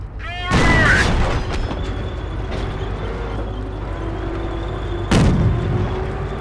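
Tank cannon fire slams into a Panzer's rear armor in the Company of Heroes war game: two loud, close booms a few seconds apart over a low, continuous engine rumble.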